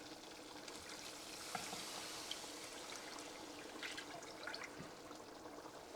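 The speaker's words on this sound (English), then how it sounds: "add in the milk." Milk poured into a pan of flour mixture for cheese sauce, a faint steady liquid stream with small splashes.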